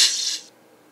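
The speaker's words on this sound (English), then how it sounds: "Every time we apply a concept to annotating, you will hear a zapping sound like this." A single synthetic zapping effect: a bright, hissy burst lasting about half a second that cuts off abruptly into near silence.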